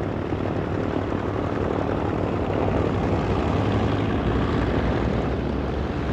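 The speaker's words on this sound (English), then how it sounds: "these Mitchells, which appear to be the C model, make their way on one more mission." B-25C Mitchell bombers flying overhead with their propeller engines, a loud continuous droning roar that stays steady throughout and fills the whole clip without voices.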